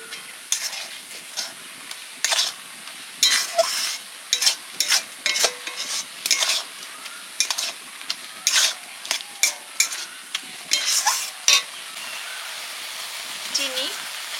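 A spoon stirs and scrapes grated coconut through boiled milk in a pot, making a run of short irregular scraping strokes and taps, close and fairly loud, with no talk.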